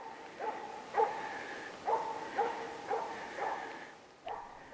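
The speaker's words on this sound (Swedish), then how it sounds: "Det kommer ett fint gångstånd sakta emot mig och det är Happy som skäller" A hunting dog, a Jämthund, barks repeatedly at a steady pace in the distance during a moose hunt, faint and echoing, over quiet outdoor background.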